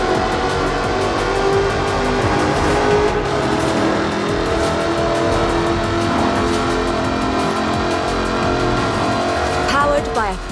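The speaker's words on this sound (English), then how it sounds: "Powered by a 5-litre V8 supercharged engine, with a fully aluminium body, it's blisteringly fast" A supercharged 5-litre V8 car with an aluminium body in Forza Horizon 4, engine droning and revving loudly and steadily throughout, with a narrator talking over it.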